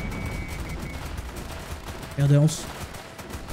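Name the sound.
bombardment explosions and gunfire in video game Northend Tower Defense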